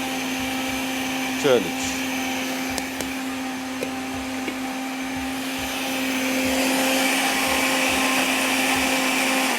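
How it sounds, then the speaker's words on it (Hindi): A grinder whirs loudly while blending a tart chutney with lemon juice, a steady motor hum with a brief pitch sweep and clicks early on, then a fuller, louder roar toward the end; a voice speaks briefly. "ये लीजिए थोड़ा सा और पीसते हैं और इसको भी मिक्स कर लेते हैं।"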